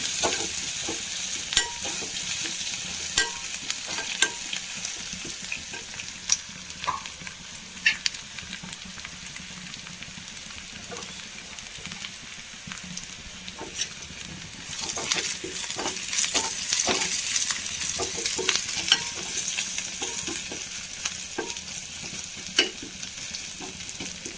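Crushed chilli frying in a pan for upperi: a steady close sizzle runs throughout, broken by repeated scraping clicks of stirring, growing a little louder and busier partway through.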